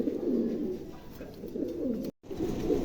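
Pigeons at a Bengali pigeon market coo steadily in low, throaty rounds, several birds overlapping close by, with a brief silent gap near the end before the cooing resumes.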